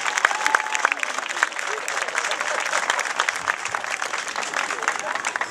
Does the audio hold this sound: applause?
yes